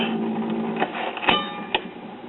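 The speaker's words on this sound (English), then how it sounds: "Now I hear the motor running. Turntable turns." A 1950s ShuraTone record player runs with its motor humming steadily and the turntable turning, a close, continuous mechanical drone broken by a few brief clicks.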